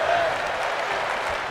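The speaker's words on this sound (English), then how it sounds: "you hear the crowd is very much into this. Chanting women's wrestling." A women's wrestling crowd cheers and chants in a steady, enveloping roar, with applause-like noise throughout.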